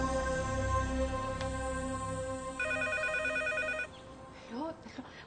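A telephone rings on a cell phone call, with repeated electronic ring tones over background music and then a brief voice near the end.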